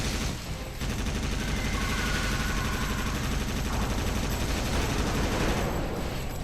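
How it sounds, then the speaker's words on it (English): Continuous dense gunfire and explosions in the video game Earth Defense Force 2017, a loud, unbroken barrage of rapid shots and blasts during a battle against UFOs that starts abruptly and never lets up. "There's explosions going on all around it."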